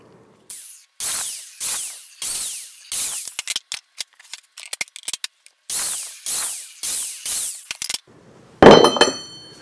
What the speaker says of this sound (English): put in the biscuit slots.